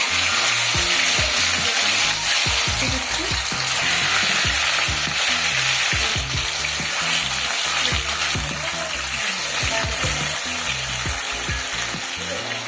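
Fish pieces coated in salt and turmeric fry in hot oil, giving a steady, loud, close sizzle with crackling pops throughout and no talking.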